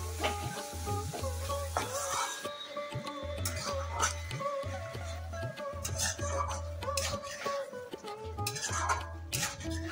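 Spice paste with half a tomato, salt and turmeric stirred and frying in a pan, a steady low sizzle under repeated scraping and clinking of a spoon against the metal, close and continuous without speech.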